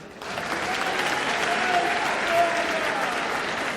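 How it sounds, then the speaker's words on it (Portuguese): Sustained applause from an assembly at a solemn session honoring the 90th anniversary of the Assembleia de Deus Madureira, a steady dense wash of clapping that holds evenly throughout with faint voices mixed in. "Um aplauso à Assembleia de Deus."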